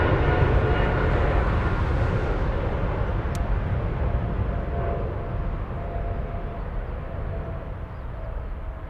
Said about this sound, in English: That's Air China Flight 932